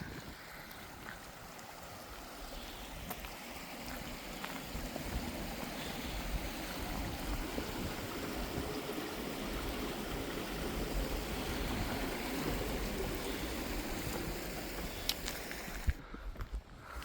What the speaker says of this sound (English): there's one pretty little creek